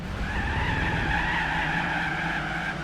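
Car tyres skidding hard under braking into a hairpin in the Gran Turismo 4 racing video game, a steady continuous screech layered over engine noise for about three seconds.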